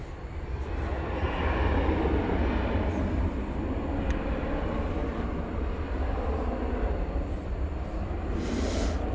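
A Qatar Airways Boeing 777 taking off at night at DFW Airport, a steady loud roar of jet engines with deep low rumble that holds throughout, heard from a distance with no talk.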